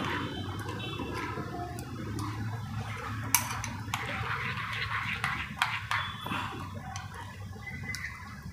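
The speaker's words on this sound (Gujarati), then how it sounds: "આ બધું પાછું મિક્સ કરી દઈએ." Mixed vegetable raita being stirred in a bowl after chaat masala and a pinch of salt go in, heard as a steady wet mixing sound with small clinks of a spoon against the bowl throughout.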